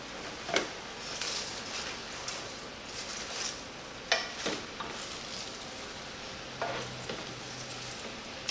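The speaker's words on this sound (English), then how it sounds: "And now we're going to add the cabbage. All right, honey, can you give that a stir?" Cabbage stirred into a big pot of vegetable soup makes a steady low sizzling bubble, with scattered scrapes and soft knocks of a utensil against the pot, close and fairly quiet.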